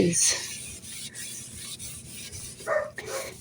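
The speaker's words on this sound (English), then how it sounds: "I apply a little pressure, but I don't have to scrub really hard." A porcelain sink scrubbed with light pressure, a close, continuous rubbing and rasping sound with brief pauses and a louder stroke near the end.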